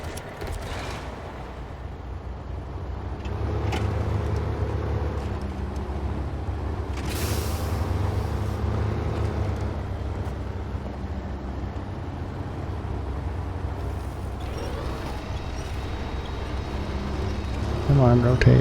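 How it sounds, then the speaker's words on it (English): A truck engine in SnowRunner drones low and steady throughout, swelling slightly as the vehicle works forward, with someone talking over it. "let's get the truck out"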